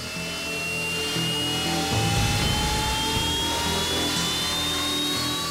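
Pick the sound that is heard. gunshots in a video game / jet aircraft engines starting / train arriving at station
jet aircraft engines starting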